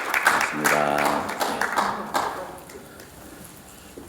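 Brief applause rises from the audience at a university board chair and president inauguration thanksgiving service, fading quickly after a short word of thanks is spoken.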